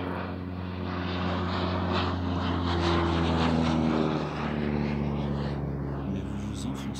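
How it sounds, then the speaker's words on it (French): A propeller airplane drones steadily in the distance across an open landscape, a low continuous engine hum that swells and eases slightly, with a soft voice speaking over it. "Au loin dans le paysage, un avion passe."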